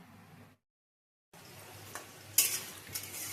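After a brief silence, bay leaves hit hot oil in a wok while cooking spicy meat curry, setting off a steady close sizzle with light clinks and stirring scrapes.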